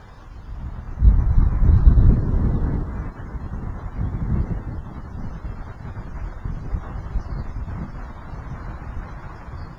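Gusty wind buffets the microphone in low rumbling surges, strongest early on and then settling into a steadier blustery roar.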